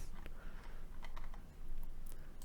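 Light typing on a computer keyboard, a few quiet scattered key presses over a steady low background hum.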